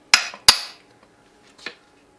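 A medieval war hammer handled against metal gives two sharp, close metallic knocks in quick succession with short ringing tails, then a fainter third clank after a pause.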